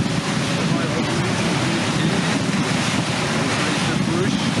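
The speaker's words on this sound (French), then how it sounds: "Le vent est revenu," At sea aboard a sailboat running under spinnaker, strong wind buffets the microphone over the constant rush of waves against the hull, with a voice speaking throughout.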